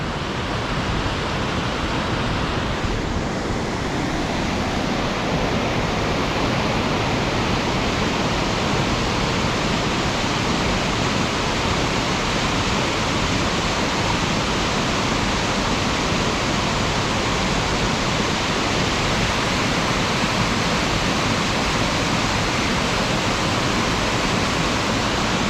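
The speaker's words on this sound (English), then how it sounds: "So this is actually a creek." Creek water near the Middle Fork Snoqualmie River rushes in a dense, steady roar. The broad hiss runs loud and unchanging throughout, with no voices.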